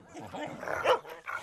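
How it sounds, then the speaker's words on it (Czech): Dogs fighting give a brief, close burst of growling, snarling barks and yelps that rises to a sharp peak and then cuts off. "když v tom přiběhli nějací psi a pustili se do sebe"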